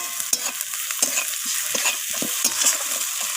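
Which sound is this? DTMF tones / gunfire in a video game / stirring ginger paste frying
stirring ginger paste frying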